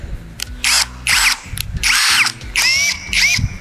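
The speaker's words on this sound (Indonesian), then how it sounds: "Kita lanjut untuk pengeboran" A XENON CDID1845 18V cordless impact drill bores with a hole saw in repeated bursts, about five loud whirring runs of half a second each separated by short pauses, close and with no talk.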